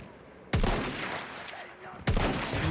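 Gunfire in the video game Battlefield 1, two loud sharp bursts of shots a second and a half apart with lingering echoing rumble between.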